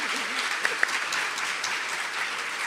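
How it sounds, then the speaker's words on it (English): Brief, fairly quiet applause from a summit audience for a panel, steady clapping with a couple of sharper claps standing out. "please, another round of applause for the panel"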